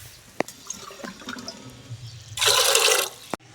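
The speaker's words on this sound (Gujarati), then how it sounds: "એટલે પાણી નાખશું આમાં જેટલું જોઈએ એટલું" Water is poured into a pot of chickpeas and peas for boiling: a few faint clinks, then a short, bright splashing gush of about a second before it stops abruptly.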